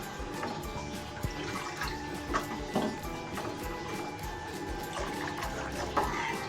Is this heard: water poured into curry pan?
yes